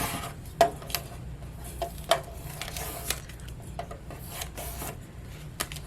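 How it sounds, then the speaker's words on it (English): Plastic scraper tool rubbed a few times over vinyl transfer tape on a craft project, heard as quiet close scratchy strokes with small clicks and taps. "Use our scraper tool to go over it just a couple times."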